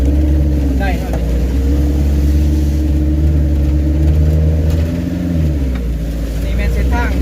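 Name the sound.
car driving on a muddy road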